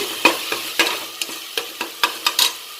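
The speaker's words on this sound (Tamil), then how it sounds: "இப்போ தக்காளி நல்லா வதங்கிடுச்சு." Tomatoes with salt sautéing in a pan for a pepper mutton soup, stirred in regular scrapes and taps about every half second over a soft steady sizzle, close and clear.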